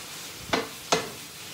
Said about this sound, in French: on laisse cuire notre viande